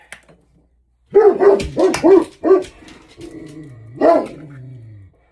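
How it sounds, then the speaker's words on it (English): A dog barks several times in a quick burst, then gives one more bark after a short pause, close and fairly loud in a home kitchen where a plum cake is being mixed. "My dog has just seen something outside."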